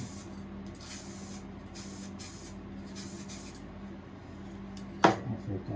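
Primer spray painted onto a Yamaha FG365 SII acoustic guitar, heard as steady bursts of aerosol hiss that start and stop in pulses, close by, with a sharp knock near the end.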